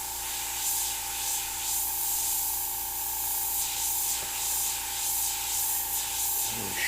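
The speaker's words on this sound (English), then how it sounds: "I'm just going to pulse the airbrush around and darken it in a little bit" An airbrush sprays paint onto a skull artwork in a continuous close hiss that swells and eases in gentle pulses, with a steady compressor hum underneath and a small knock near the end.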